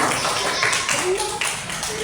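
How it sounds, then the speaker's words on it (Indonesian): Students in a civics classroom clap for a group, a brief burst of mixed hand claps heard alongside a voice. "Beri tepuk tangan untuk kelompok"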